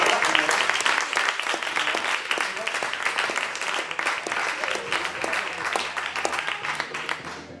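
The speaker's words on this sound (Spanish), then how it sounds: "si podemos ir aplaudiendo a la seguida del escenario" An audience at a poetry slam applauds steadily, a dense wash of clapping with a few sharper individual claps, holding for several seconds before tapering off.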